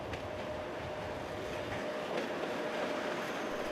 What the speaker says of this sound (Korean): 저 기차는 시베리아 횡단 열차예요.